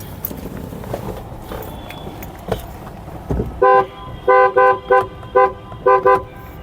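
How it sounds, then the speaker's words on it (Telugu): Horn of a 2015 Mahindra TUV300 T8 diesel SUV, sounded in a series of short, loud toots, about six bursts in an uneven rhythm, close by after a few seconds of faint background noise. "హారన్ పర్ఫెక్ట్ ఉందండి."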